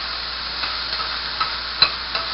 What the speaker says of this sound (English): Put it in there and kind of stir fry it all together